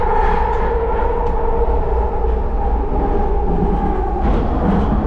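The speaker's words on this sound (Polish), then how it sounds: "Ja jestem już w tym. W Pociągu." Steady rumble and rattle inside a moving train carriage, a continuous low drone with track noise running throughout, loud and close with no talking.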